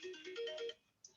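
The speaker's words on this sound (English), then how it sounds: "Who is calling me? Let me silence my phone." A mobile phone ringtone plays a short melodic electronic phrase during a class, clear and moderately quiet, cutting off after about a second with a brief blip after it.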